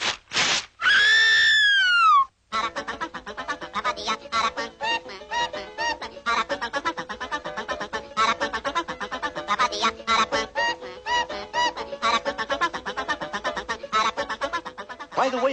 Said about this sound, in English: he's called the Aracuan because of the peculiar song he sings